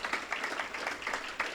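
Conference audience applauding at the Don't Be Evil event, steady clapping of a moderate crowd heard as a dense, even patter over a short stretch.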